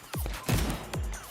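Tommy gun fire from an animated show rings out in a quick string of about three sharp, loud bursts with descending twangs, close and punchy, with no voices.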